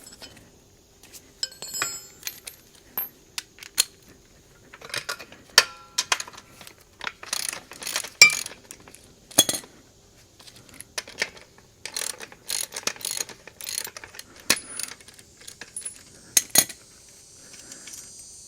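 Two 14 mm bolts come off the chassis of a Sears Craftsman 50165 2.5-ton low-profile floor jack, heard as sharp ratchet clicks in irregular bursts and metallic clinks of tools and parts, close and alone in a quiet room.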